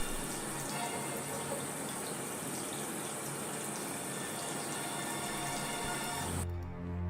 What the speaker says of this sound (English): were like Susie, after a year they could fill up an Olympic-sized swimming pool with the water they wasted just from brushing their teeth